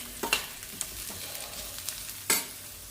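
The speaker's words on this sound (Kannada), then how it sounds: "ಈರುಳ್ಳಿ ಬೆಳ್ಳುಳ್ಳಿ ತೆಂಗಿನಕಾಯಿ ಚೆನ್ನಾಗಿ ಹುರ್ಕೊಂಡಿದೆ" Onion, garlic and coconut roasting in a pan, with soft steady sizzle broken by a few sharp scrapes and clacks of a spatula stirring, close by.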